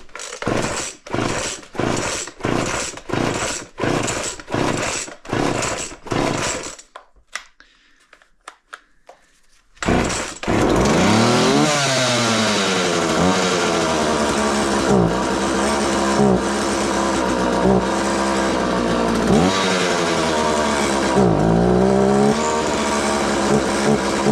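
A chainsaw under repair with a sticky throttle fires in a series of short revving bursts, goes quiet briefly, then starts and runs loudly and continuously, pitch rising and falling as the throttle is worked.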